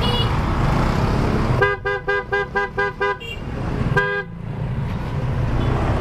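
Car horns toot in a rapid run of about six short honks, then one longer blast, over steady street traffic where slow cars and pedestrians share the road, heard from a motorcycle.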